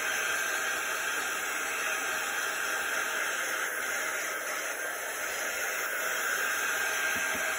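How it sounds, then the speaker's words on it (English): Quick dry heat tool blowing a steady, loud stream of air over ink mats being dried, a continuous broadband whoosh with no breaks. "we're going to just use the quick dry tool"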